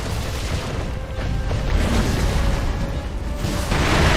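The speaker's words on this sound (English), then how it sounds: "And throw firecrackers occasionally." Firecrackers go off in Sekiro during a boss fight, giving loud rough popping bursts over a dense rumbling background that holds steady throughout.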